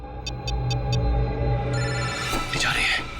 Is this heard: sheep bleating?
no